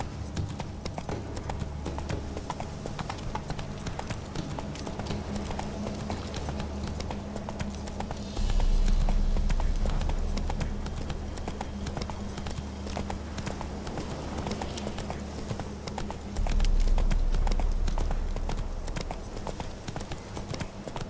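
Roach the horse gallops steadily in The Witcher 3: Wild Hunt, Hearts of Stone, a continuous clip-clop of hooves running for about twenty seconds, with two louder surges partway through.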